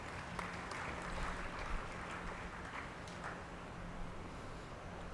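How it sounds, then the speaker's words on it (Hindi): An indoor audience at a spiritual gathering claps to welcome guests, a dense, even wash of applause that holds steady throughout without a clear break. "उनको भी स्वागत में ताली मारो सबकी"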